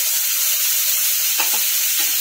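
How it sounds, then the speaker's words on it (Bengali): A paste of ground tomato, garlic and a little ginger fries in hot oil, giving a loud, continuous sizzle with a few soft stirring scrapes near the end. "মশলাটাকে ভালো করে ভাজবো"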